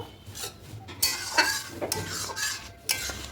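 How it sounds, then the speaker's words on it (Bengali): Mung dal curry stirred with ghee in a pot, a metal spoon scraping and clinking in irregular strokes with a faint sizzle beneath, close and alone. "খুব ভালো করে মিশিয়ে নেব"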